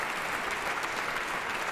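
A concert hall audience applauds after an orchestral performance of Sibelius's Night Ride and Sunrise, a dense, even roar of many hands heard from a distance, with no voices standing out.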